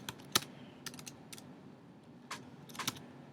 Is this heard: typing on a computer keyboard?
yes